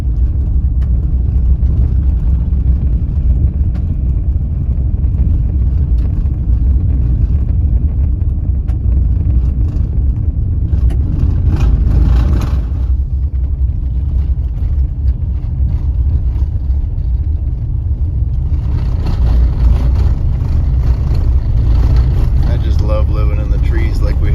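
A vehicle towing a trailer on the way to a leaf dump near a forest, its steady engine rumble and road noise droning continuously up close throughout, with a few brief rattles.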